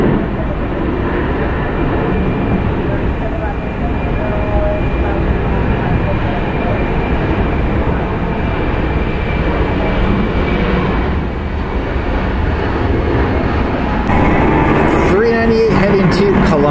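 A FedEx Boeing 767 jet passes near a Dallas Fort Worth airport hotel, a broad steady roar filling the whole stretch and swelling slightly toward the end, with no talk over it.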